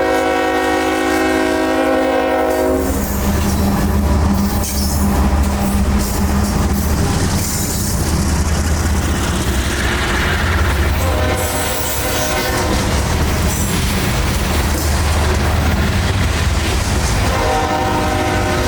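Coal train rolling through Gibsonton near Tampa on a southern line, opening with a loud sustained horn blast, then continuous rumbling and clattering of passing cars, with the horn returning in later blasts.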